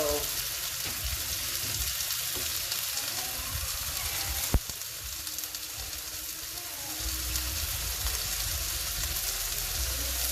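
Garlic and onions sizzling vigorously in a hot pan for a stir-fry, a loud, steady, close frying hiss with a single sharp click partway through, no speech.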